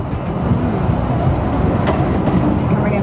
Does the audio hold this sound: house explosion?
no